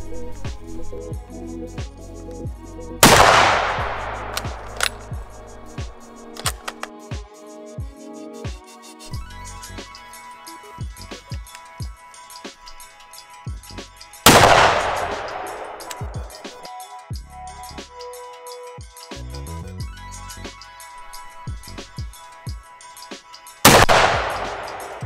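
.30-06 rifles fire three loud, booming shots spaced roughly ten seconds apart, each with a long rolling echo, amid steady outdoor background noise with faint clicks and handling sounds between them.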